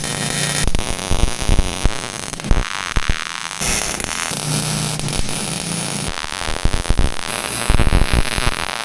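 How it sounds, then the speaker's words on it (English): A welder tacks a rear bumper and tire carrier with loud, crackling, static-like arc bursts that start and stop in short runs over a constant electrical hum. "I'm gonna tack it up really fast, and then probably weld it up"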